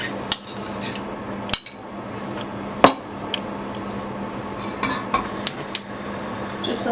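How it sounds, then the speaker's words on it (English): Pasta being stirred into sauce in a pan over a small flame, with spinach added: sharp, intermittent clinks and knocks of a utensil against the pan over a soft, steady background. "Give it a good mix."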